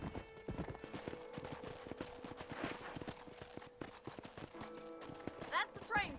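Horses at a ranch corral in Red Dead Redemption, hooves clip-clopping steadily with a couple of neighs and whinnies near the end, under background talk.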